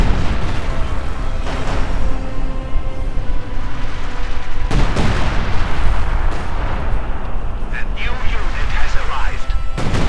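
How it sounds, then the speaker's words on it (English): Mortar blasts and gunfire in the WWII strategy game Company of Heroes 2, heavy booms and cracks in a dense, loud, continuous barrage with sharp impacts standing out, a commentator's voice running underneath. "It looks like the Pack 43 though went down to mortar fire"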